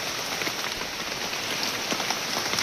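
Steady rain falling in a forest beside a stream, with a dense continuous patter of drops close by and a few sharper drips. No one speaks.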